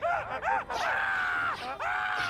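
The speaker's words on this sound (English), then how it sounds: "You can scream like a little girl." A video game character lets out several loud, drawn-out screams in quick succession, each rising and falling in pitch, close and alone.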